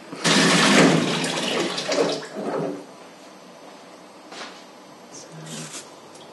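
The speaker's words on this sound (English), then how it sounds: "I'm going to wash my hands" Running tap water splashes over hands at a kitchen sink, loud and close at first, then easing into softer trickles and a few faint drips near the end.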